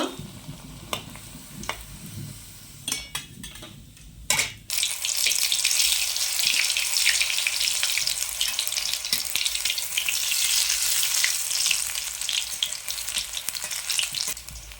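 Radish pieces sizzle loudly in hot oil in a pan, with a few sharp clanks of a utensil early on before a continuous, dense frying hiss takes over.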